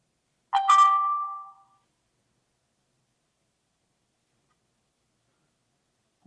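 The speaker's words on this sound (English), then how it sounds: "Okay, you hear this chime," A Tapo C320WS security camera gives a single short electronic chime after its reset button is held, a bright tone that decays within about a second, followed by silence.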